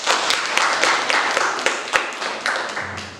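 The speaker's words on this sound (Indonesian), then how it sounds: "tepuk tangan untuk kelompok 1" A classroom group applauds a student team after its presentation: a brief patter of uneven handclaps from a small group, close and lively, fading out after a few seconds.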